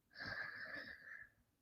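Slow, audible exhale during a belly breathing exercise, a soft breathy rush lasting over a second that fades at the end, close to the microphone with no talk over it.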